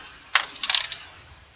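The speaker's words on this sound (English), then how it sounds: "And her dice will roll." Dice rolling during a tabletop role-playing game: one sharp clatter as they land, then a quick run of rattling bounces that fades out within a second, close and clear with no talk.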